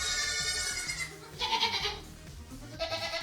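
Goats bleat at a milk stand in several loud, wavering cries close by, separated by brief pauses with some shuffling between calls.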